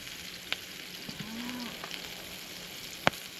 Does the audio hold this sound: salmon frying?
yes